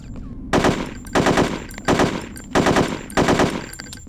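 Five evenly spaced bursts of rapid automatic gunfire at training targets in Hitman: Codename 47, loud and close, each lasting about half a second with short pauses between.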